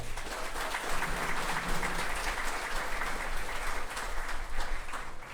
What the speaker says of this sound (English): please give our previous team, Down East Wood Ducks, a round of applause for being here again